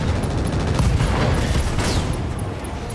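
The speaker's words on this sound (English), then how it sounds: "Ammo explosion." An ammo explosion in a BattleTech mech video game bursts as a dense, loud rumble of booming blasts and crackling detonations that holds for several seconds and then eases slightly.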